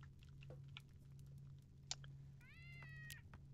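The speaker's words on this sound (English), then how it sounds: "Cat." A cat in a Starbound game meows once near the end, a short rising call over a low steady hum and scattered faint clicks.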